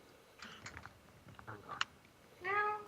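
A cat gives a short, clear meow at the end, after faint clicks and light tapping sounds nearby.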